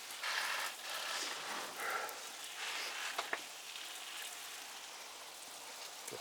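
Water spraying steadily over garden plants and vegetable beds, a continuous hiss with soft patters and a few sharper drips, fairly close, with no talking.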